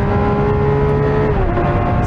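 A Lamborghini Aventador SVJ with a single-clutch gearbox launches hard, its engine roaring loud and close with a sustained tone that drops at a gear change midway.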